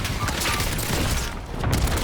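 Rapid gunfire bursts from the Warzone Rebirth Island battle royale game, dense and continuous with booming low impacts, mixed under faint game noise.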